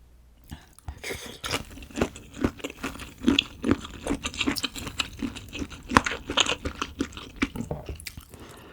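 Close, crisp chewing and biting of malatang with noodles and shrimp, a steady rhythm of wet crunches and squishy mouth sounds with no talking.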